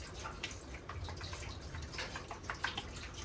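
Vinegar pours into a tank as part of preparing a surface for paint, a quiet, steady splashing trickle with faint drips and small bubbling gurgles, heard alone.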